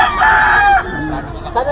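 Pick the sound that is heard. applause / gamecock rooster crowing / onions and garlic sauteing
gamecock rooster crowing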